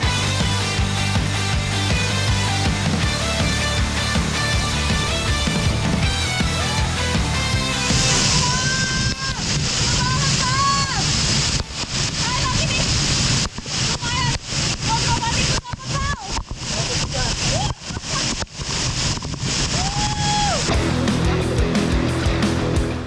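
Steady rushing water from a waterfall along the Elo River roars loudly throughout, with music playing over it and occasional splashes.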